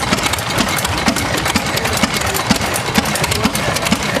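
A 1913 seven-horsepower Lister stationary engine runs at a tractor show, thumping in a steady rhythmic beat with a mechanical clatter over a constant outdoor hum, loud and close.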